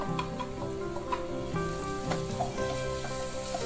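Ginger garlic paste and green chillies sautéing in a pan, an even close sizzle with small crackles and occasional stirring scrapes, steady throughout with no voices.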